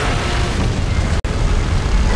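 A Mechagodzilla beam blast explodes in PUBG Mobile as a loud, continuous roaring rumble that briefly cuts out midway, then surges on.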